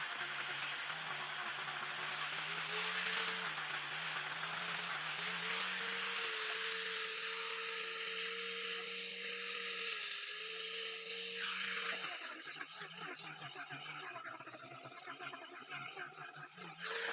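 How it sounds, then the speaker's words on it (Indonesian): A power grinder with a sanding pad whirs against a glued wooden board, its motor pitch shifting slightly, then turning rougher and scratchier near the end. "Papan yang sudah dilem kemudian kita akan haluskan menggunakan gerinda"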